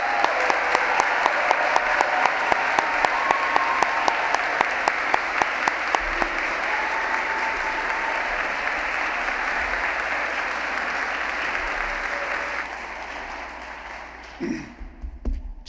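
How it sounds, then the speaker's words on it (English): Sustained audience applause at a physician assistant program commencement ceremony, with a few sharp nearby claps standing out early, then a broad wash of clapping that thins and fades near the end. "Let's give them a big round of applause."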